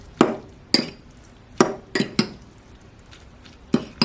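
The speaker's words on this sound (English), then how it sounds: "I'm gonna grab a fork and just mix that in" A metal fork clinks against a Dash egg bite maker while mixing soft cooked Top Ramen noodles. About seven sharp, separate taps are spaced irregularly, with quiet gaps between them.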